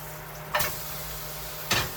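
Meat searing in hot oil and fat, a steady sizzle broken by two sharp bursts as the pan is disturbed, close and fairly quiet.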